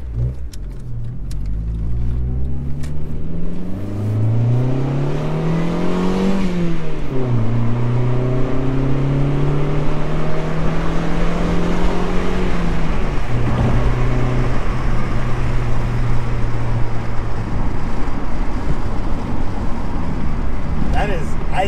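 A 1999 Honda Civic CX hatchback fitted with a Revel Medallion Touring-S exhaust idles with a deep, steady drone. Several rising and falling revs come through clearly, and voices talk over the engine.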